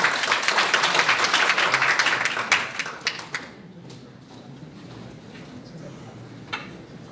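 Audience applause fills a hall at a conservative group's gathering in the National Assembly building in Yeouido, a dense burst of clapping that thins out after about three seconds and leaves a quiet room with a few scattered claps.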